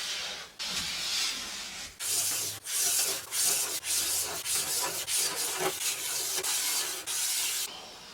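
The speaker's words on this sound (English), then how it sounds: "I just want to go over it with some 4-0 steel wool" Fine 0000 steel wool rubbed over an Art Deco wooden vanity, a series of close, raspy scrubbing strokes in a steady back-and-forth rhythm with short pauses between passes, no talking.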